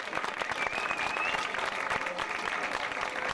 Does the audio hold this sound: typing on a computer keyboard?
no